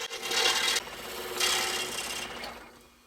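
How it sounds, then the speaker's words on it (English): Rasping saw strokes cutting F holes in a small wooden miniature violin ornament, three steady passes back and forth at close range, each a gritty rub. "you want to cut your F holes first and then follow up with the perimeter"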